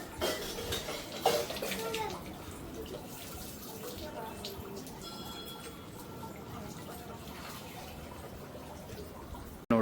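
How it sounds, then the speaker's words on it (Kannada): Water is poured from a metal pot onto a Shiva linga at the ancient Kadri Manjunatha Temple in Mangaluru, a soft splashing mixed with faint metallic clinks, quiet under murmuring background voices. "ಹಿಂಗೆ ಒಂದು ಚಂಬಿಗೆನಲ್ಲಿ ನೀರು ತಗೊಂಡು ಅಲ್ಲಿ ಮೇಲ್ಗಡೆ ಶಿವಲಿಂಗ ಐತಿ"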